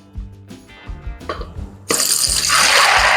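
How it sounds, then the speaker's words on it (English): Water poured from a tap into a large bowl of one pound of dried beans, first a few dripping, clinking splashes, then a sudden loud steady gush of filling water for the last second and a half. "add water"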